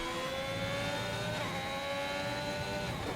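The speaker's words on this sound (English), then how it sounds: "Revving it out in 6th." A Formula 1 car engine in the F1 2021 racing game screams steadily at high revs in sixth gear, a continuous loud whine with a slowly shifting pitch and no talk over it.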